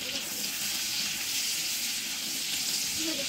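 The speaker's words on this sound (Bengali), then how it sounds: "তার মধ্যে কিছু রসুন কুচি, কিছু পেঁয়াজ কুচি, আস্ত লাল মরিচ দিয়ে আমি ভেজে নিচ্ছি।" Chopped garlic, chopped onion and whole dried red chilies fry in hot oil in a home kitchen, giving a soft, even sizzle that hisses continuously at low volume with no talking.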